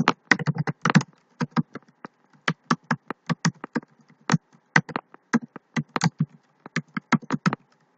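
Computer keyboard typing while entering a form name in a C# library management program, with clear, close keystrokes arriving in quick irregular bursts for about eight seconds, no voices.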